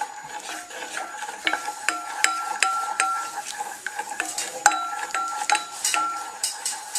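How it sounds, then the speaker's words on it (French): Lemon juice, lemon zest and sugar being stirred in a bowl, with steady clinking and scraping of a utensil against the bowl, close and continuous and without talk. "Mélangez bien."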